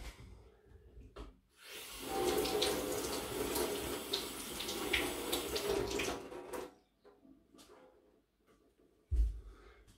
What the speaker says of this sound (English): I'll just give that a rinse on the tap.